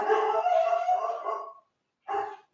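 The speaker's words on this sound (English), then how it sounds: "And my dog's about to go crazy." A dog howls alone, one long drawn-out wavering howl followed after a short pause by a briefer second howl, fairly close and loud.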